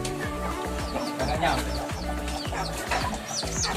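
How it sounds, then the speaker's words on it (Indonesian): A large flock of chickens, around five hundred birds, clucks and calls continuously inside a farm coop, a dense, busy chorus with people talking over it. "Ayamnya banyak banget ini, sekitar kalau dihitung sekitar 500-an ayam ada ini di sini."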